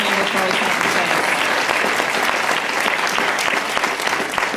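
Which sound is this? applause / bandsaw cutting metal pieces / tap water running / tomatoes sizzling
applause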